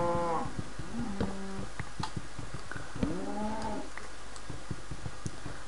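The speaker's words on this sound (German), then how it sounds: "Ja, ihr blöden Kühe," Minecraft cows low several times, their drawn-out moos overlapping one another, with soft game sounds and faint clicks scattered between.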